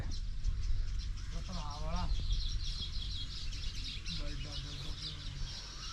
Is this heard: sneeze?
no